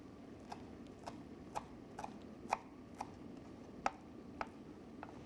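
A knife chops fresh mint and parsley for a salad on a cutting board, about ten crisp separate strokes at an unhurried steady pace, fairly faint over a quiet background.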